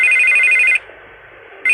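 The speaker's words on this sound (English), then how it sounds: "I can't get the phone to stop ringing." A telephone rings in the Batman Telltale video game, a loud electronic ring lasting under a second, then a pause, then the ring starting again, with no other sound.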